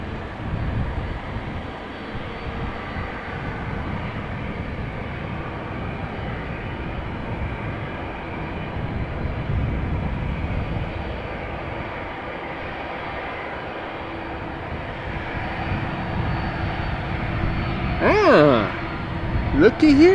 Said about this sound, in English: Meanwhile, we have an American that is on the move. American 777.